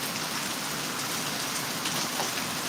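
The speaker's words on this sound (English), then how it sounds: "the rain is loud" Heavy rain pours down in a constant, dense hiss of drops hitting surfaces, loud and close with no pauses and no voices.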